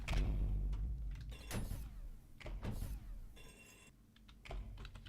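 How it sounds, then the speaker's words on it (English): Keys clatter on a quieter computer keyboard during Ultrakill play, irregular soft taps and short bursts of typing close to the mic over a low background hum. "I got a quieter keyboard, by the way"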